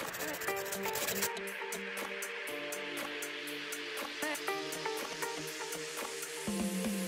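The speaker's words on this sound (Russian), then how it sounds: "Теперь нам нужно его попилить." Filing a gel-reinforced natural fingernail during a manicure: quick rhythmic scratchy rasping strokes close up, steady and fairly quiet, with soft background hum.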